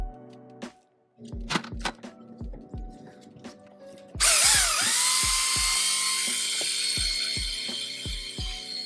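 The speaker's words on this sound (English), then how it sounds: "I'm polishing the cut side of this, I believe 6-foot granite piece that's going to go on top of the shower step" A power polishing tool works the cut edge of a roughly six-foot granite slab for a shower step, starting after scattered clicks and knocks and then running as a loud, sustained high whine that gradually settles.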